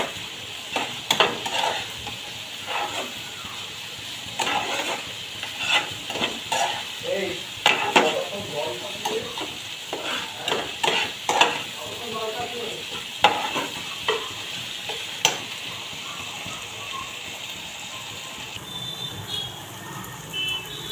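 Onion fries with ginger garlic paste for a mango chicken curry, with a steady sizzle and a spatula scraping the pan in repeated strokes over a long stretch.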